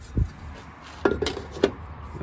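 Metal stove wind brakes clink and clack as they are fitted around a camper's stove, a few sharp light metallic knocks close by, with quiet room tone between.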